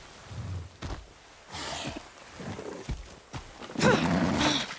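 A horse being mounted in Far Cry 6: a brief snort and neigh, light hoof and gear movement, and a final breathy whinny near the end, fairly close and loud, with no voices.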